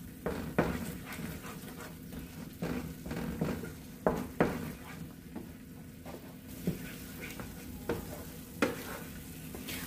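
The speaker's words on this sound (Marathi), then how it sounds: "हे वाटण छान तेल सुटेपर्यंत परतून घ्यायचं आहे" Ground masala paste sautéing in oil for restaurant-style matar paneer, with a steady sizzle running under repeated scraping stirs of a spoon in the pan, sharp knocks punctuating the frying at irregular intervals, no talk.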